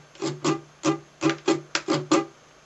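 An acoustic guitar plays the strumming pattern for a song, about eight or nine crisp strokes in a steady down-up rhythm, close and clear with ringing chords and no talking.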